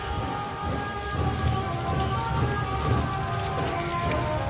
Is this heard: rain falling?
yes